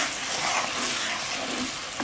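Sugar is stirred into boiling coconut milk for halayang ube, with a steady bubbling hiss and light scraping heard alone and close by throughout.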